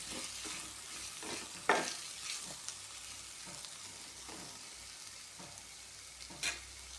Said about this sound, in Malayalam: നന്നായിട്ടൊന്ന് ഇളക്കി മസാല ഒന്ന് ഉള്ളിയിലൊക്കെ ഒന്ന് നന്നായിട്ട് പിടിച്ചു വെക്കാം